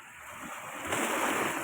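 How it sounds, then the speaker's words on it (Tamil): Floodwater of the Kaveri river at Erode, swollen by rain and released from the Mettur dam, rushes in a steady, loud roar that swells louder partway through, with no voices. "காவேரி ஆற்று தண்ணி பயங்கரமாக அடிக்குது தண்ணி"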